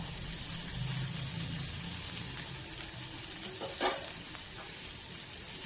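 Vegetables fry in a pan for sabudana pulao with a constant close sizzle of hot oil and a brief louder stir or scrape partway through.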